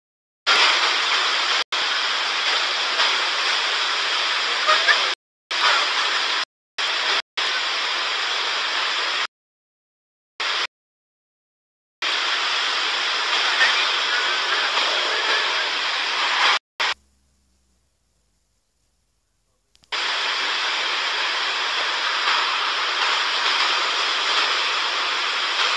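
Beach surf plays back from a video as a broad, rushing wash of waves that cuts out abruptly several times and returns at the same level, with no voices.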